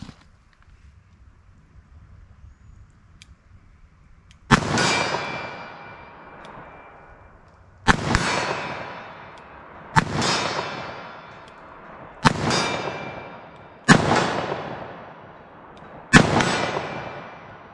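.38 Special +P+ lead semi-wadcutter hollow-point loads fire from a 4-inch-barrel revolver at a steel target 40 yards away, with five sharp, loud shots spaced a few seconds apart, each ringing and fading before the next.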